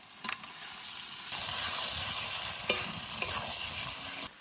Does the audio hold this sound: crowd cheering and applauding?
no